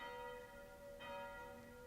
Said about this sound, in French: les cloches qui sonnent, si vous les entendez